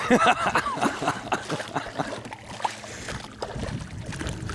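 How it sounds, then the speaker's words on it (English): Oars dip and pull through water in a loose rhythm, with soft splashes and creaks of a small rowboat close by, outdoors with faint wind. "he's finally rowing a boat for a change"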